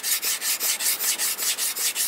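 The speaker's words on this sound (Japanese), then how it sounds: "刃先が当たらないように注意をしながら、切り刃の面を当てております。" A thin-bladed Japanese knife is pushed across a whetstone in strokes, about ten close, even, hissing scrapes at a brisk, regular rhythm, loud and with no speech.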